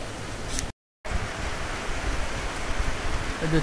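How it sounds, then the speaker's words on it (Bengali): Heavy rain pours down steadily during a hot spell, a dense even hiss that fills the whole clip apart from a brief dropout near the start. "প্রচণ্ড পরিমাণের বৃষ্টি নামছে"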